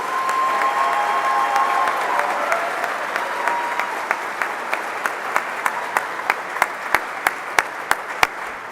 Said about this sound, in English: One more round of applause to recognize our students.